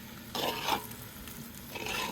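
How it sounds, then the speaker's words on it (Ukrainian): Potatoes frying in a pan, a steady soft sizzle with scraping stirring strokes swelling up a few times, heard close by without speech. "бачите, як гарненько піджарила, теж втушується вже місцями картопелька, бачите."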